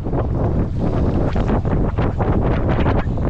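Strong, steady gusting wind roars across the microphone outdoors beside moving water while fishing for salmon, a dense buffeting rush that continues for the whole stretch with no voices.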